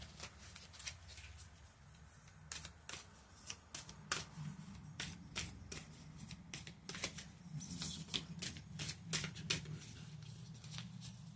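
Tarot cards drawn from a deck and shuffled, a run of crisp riffling flicks and soft slaps of card stock in quick uneven bursts, close up over a low steady hum.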